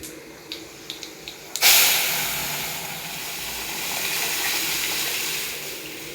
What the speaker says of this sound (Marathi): आता आपल्याला फोडणीवर डाळ घालून घ्यायची